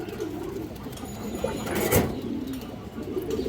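Pigeons, among them Arabian females, coo steadily in low murmurs amid a faint background hum, with one brief sharp rustle near the middle.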